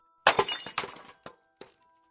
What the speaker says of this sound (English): I smashed the cursed mirror to pieces